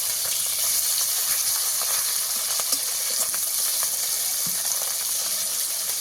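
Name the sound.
small chuno fish frying in oil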